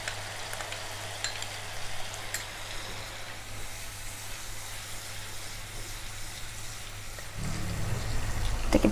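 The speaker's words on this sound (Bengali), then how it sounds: "এটাকে ভালো করে এবারে একটু ভাজতে হবে।" Mutton kofta curry masala with beaten yogurt sizzles steadily in a pan, a soft continuous crackle that grows a little louder near the end, with no talking.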